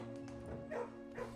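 A dog in the Puppers room of the video game Blue Prince gives soft yips and whimpery barks, two short bursts over a steady game music background.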